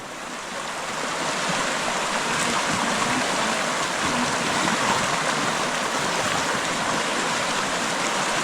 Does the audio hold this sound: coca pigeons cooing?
no